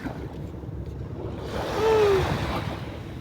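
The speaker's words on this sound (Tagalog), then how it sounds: "Hindi naman malalim yan eh. Alon lang yan eh." Sea waves at a beach: a soft wash of surf that swells into a louder surge midway and then eases back, with a faint brief tone and wind rumble underneath.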